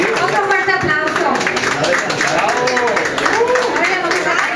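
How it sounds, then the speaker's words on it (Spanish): Audience applause at a Cinco de Mayo event invitation gathering in Flushing, a loud crowd clapping mixed with cheering and voices calling out, continuous throughout. "Otro fuerte aplauso."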